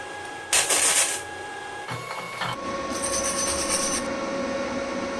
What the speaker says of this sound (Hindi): मैं आपको अलग अलग जॉब पर वेल्डिंग करके बता रहा हूं ताकि आपको मैग वेल्डिंग की क्वालिटी और कंसेप्ट